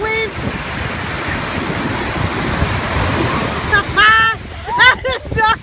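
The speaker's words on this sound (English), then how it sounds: "look at the waves!" Ocean surf at Juno State Beach Park in Jupiter, Florida, a loud continuous wash of breaking waves with wind noise, while excited voices shout over it near the end.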